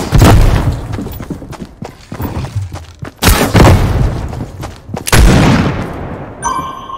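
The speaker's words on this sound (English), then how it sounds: "I'm just hearing all these explosions going on downstairs" Repeated loud booming blasts in the video game Fortnite, with deep rumbling tails, several heavy explosions in quick succession, close and powerful, with a brief electronic tone at the end.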